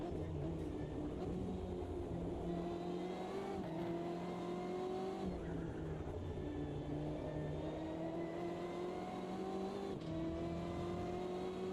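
A race car engine from the Automobilista 2 racing game drones steadily throughout, its pitch rising and falling through gear changes while the car laps the track at a quiet, low level.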